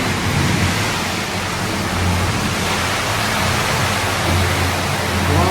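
Heavy rain pouring down during a storm, a dense, steady broadband roar that stays loud and unbroken throughout.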